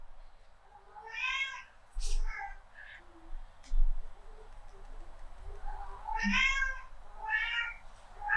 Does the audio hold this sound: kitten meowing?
yes